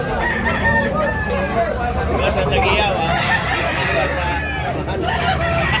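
A rooster crows loudly and repeatedly at a busy poultry market in Tabunok, Talisay, Cebu, with other fowl clucking and crowd chatter throughout.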